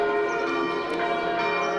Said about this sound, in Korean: 경쾌한 종소리가 여행객의 발걸음을 잡습니다.